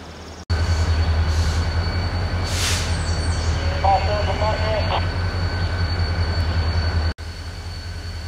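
RJ Corman Railroad cars switching at the end of a bridge rumble and clank along the track with a steady low roar, brief metallic squeals and knocks rising above it.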